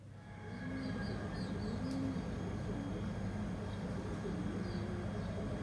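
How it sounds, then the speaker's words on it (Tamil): Small birds common in Qatar, a nest with newborn chicks, give soft chirps and a few brief high calls over a steady low background hum and noise, faint and intermittent, with no talk. "நார்மலாக கத்தாரில் ஜென்ரலாக இருக்கிற பேர்ட்ஸ் அது"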